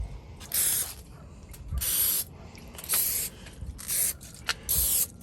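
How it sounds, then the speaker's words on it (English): Five bursts of hissing spray from a spray bottle onto an Oklahoma Joe's Longhorn Reverse Flow smoker, each lasting about half a second, with short pauses between and faint clicks of the trigger. "I'll take my spray and we're going to spray the top side of this as well"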